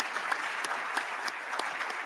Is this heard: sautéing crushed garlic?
no